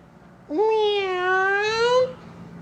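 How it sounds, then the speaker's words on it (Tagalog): A single cat gives one long, drawn-out meow, loud and close, rising then holding steady for about a second and a half against a quiet background. "Huwag mo kumamiyaw-miyaw dyan!"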